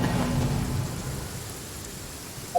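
In Genshin Impact, rain falls steadily beneath a low, rolling rumble of thunder that fades over the first second, leaving a soft, even hiss of rainfall.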